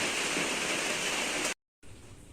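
Rain pours outdoors at evening as a dense, steady hiss, close and loud, then cuts abruptly to silence before resuming more softly.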